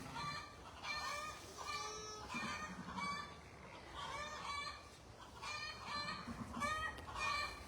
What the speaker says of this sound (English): So them hens are cackling.